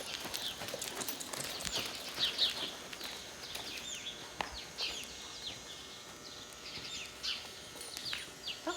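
Hooves of Woody the horse make soft, irregular clip-clop steps at a distance, quiet and outdoors. Scattered bird chirps sound over the top.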